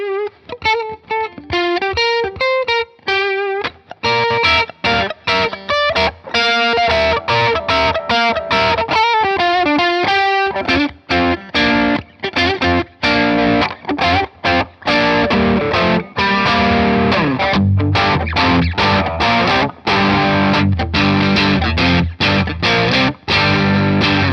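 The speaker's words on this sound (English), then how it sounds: "You're just saturating the mids in your existing overdrive or distortion sound." Electric guitar with a thick, saturated overdrive tone boosted in the mids by an EQ pedal, starting with picked melodic notes and moving into chunky, driving chords and riffs.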